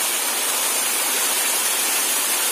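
A waterfall on farmland at Madalamuthi roars as a dense, steady wash of falling water, loud and close, with no breaks and no voices.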